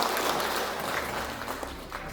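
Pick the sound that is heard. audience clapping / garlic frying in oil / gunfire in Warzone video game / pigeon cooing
audience clapping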